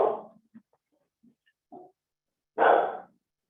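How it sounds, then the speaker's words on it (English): A dog barks in a quiet room: one gruff bark, then faint snuffles and small noises, then a louder, fuller bark near the end, with silence in between. "dog bark"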